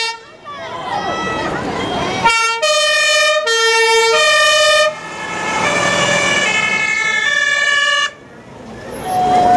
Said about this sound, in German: Der RTW, Rettungswagen